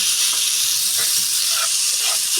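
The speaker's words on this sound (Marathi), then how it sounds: "थोडेसे काजू आपल्याला ब्राऊन करून घ्यायचे" Cashews browning in a hot pan, a steady close sizzling hiss throughout with faint scattered crackles.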